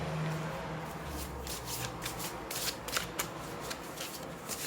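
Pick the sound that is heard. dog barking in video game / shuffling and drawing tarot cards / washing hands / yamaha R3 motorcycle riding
shuffling and drawing tarot cards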